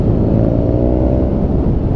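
A BMW R nineT Scrambler motorcycle engine roars loudly and steadily under acceleration, a dense close-up drone with no pauses.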